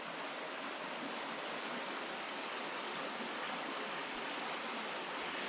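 Dog Slaughter Falls, a waterfall on a clear, deep stream, sending out a soft, steady, continuous rush of falling water heard from some distance, even and unbroken throughout.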